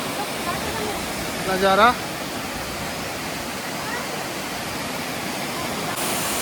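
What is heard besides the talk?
waterfall spraying water on mountain trail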